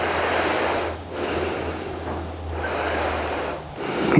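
Slow, steady nasal breaths during a yoga side angle pose, three long airy inhale-exhale cycles with brief pauses between, close and fairly loud, with no talking.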